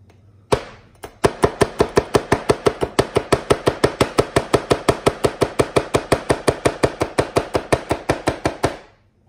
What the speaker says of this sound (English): mashing the pepper, not really cutting all the way through